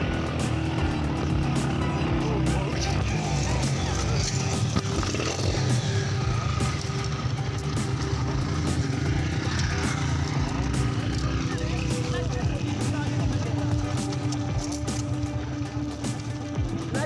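A motorcycle grinds along a rough unpaved mountain road toward Jahaz Banda in Kumrat, its engine droning steadily and loudly throughout with constant road and wind rumble.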